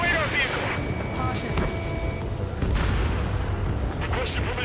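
Explosions boom in the Ace Combat 7 combat flight game as a ground target is destroyed, a dense steady rumble of blasts and fire with a brief radio-style voice over the noise.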